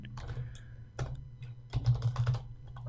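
Quick, uneven keystrokes on a computer keyboard while someone writes a Python loop program, clattering close over a low steady hum.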